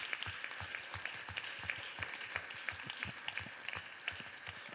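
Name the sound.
applause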